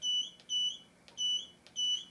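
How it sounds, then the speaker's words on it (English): A HeatWorX portable zone heater gives four short, evenly spaced electronic beeps as its timer button is pressed repeatedly, clear and close against a quiet room. "So what you do is you hit the timer button, just keep pushing it."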